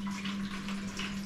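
Water pours steadily into a container while it is being fetched during a household water shortage: a continuous, fairly soft rushing stream with a low hum beneath, with no voices.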